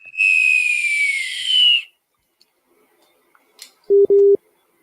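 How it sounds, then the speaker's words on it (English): A sharp, clear whistle sounds for nearly two seconds, sliding slightly downward, followed after a pause by two short, steady electronic-like tone blasts. "You get the whistle."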